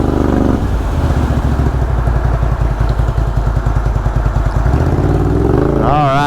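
A four-wheeler ATV charges fast through a mud hole at Busco Beach, its engine revving loud and close with rapid thumping, clattering pulses throughout.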